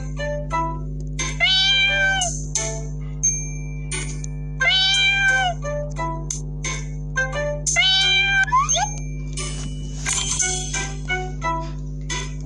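A cat meows in the Brain Test puzzle game: three drawn-out, rising and falling meows spaced a few seconds apart, with soft chimes and clinks over a steady low electronic hum.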